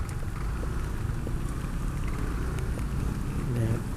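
Steady rain falls while filming on a Bangkok street, a dense, continuous wash of hiss and patter that stays at an even level throughout.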